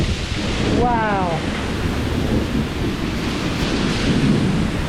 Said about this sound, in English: It's pouring, it's hailing.